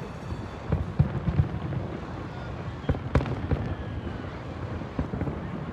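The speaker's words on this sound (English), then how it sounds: "All right, this is the last of the firework." New Year fireworks grand finale in San Francisco, a run of distant booms and crackling bursts, irregular and layered over wind noise, with some faint crowd sound between the blasts.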